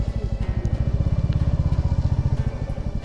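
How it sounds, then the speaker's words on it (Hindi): A motorcycle engine chugs with a fast, even, loud thumping beat while the bike climbs a mountain road near Kalpa in Kinnaur, heard close up with no voices. "लेकिन ये बाइक शायद पहाड़ों के लिए नहीं बनी"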